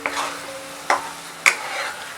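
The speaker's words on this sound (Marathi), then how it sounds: "ग्रेव्ही सतत स्टर करत राहायचं आहे." Vegetable gravy for a Veg Maratha fries in oil as a spoon stirs it, giving a soft sizzle with three distinct scraping strokes against the pan, close and clear with no voices.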